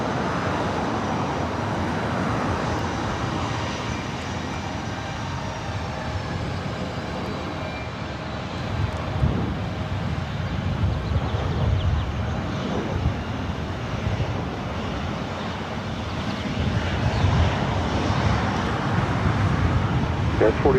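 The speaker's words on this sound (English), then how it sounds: "I believe we're getting Iberia, the A350 coming in from Madrid up here for a north side arrival." An Iberia Airbus A350 arriving from Madrid at LAX on a north side approach, a broad steady jet roar that swells slightly toward the end, with distant traffic rumble beneath.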